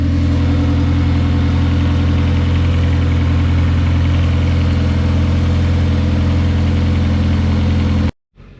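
A K-swapped Honda Civic EM2 engine idles steadily and loudly up close, a continuous low rumble with constant vibration that cuts off abruptly near the end.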